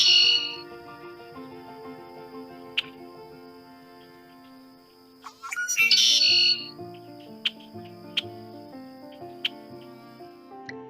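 Bird calls from the reeds along the St Johns River, a few short harsh squawks and sharp chirps scattered over a quiet background, with one louder burst midway.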